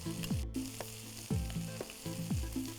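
Minced garlic and ginger sizzle in a pan of onions while chicken thoran is prepared, with a steady frying crackle broken by three rhythmic stirring scrapes.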